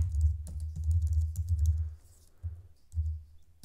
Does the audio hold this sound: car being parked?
no